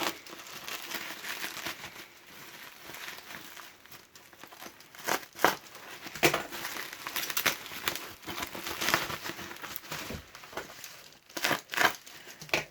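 Plastic packaging around a motorcycle radiator guard for a Yamaha YZF R25 is opened with close crinkling, rustling and tearing. Sharp crackly bursts come in irregular clusters, and no one speaks.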